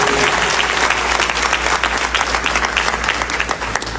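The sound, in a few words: applause in church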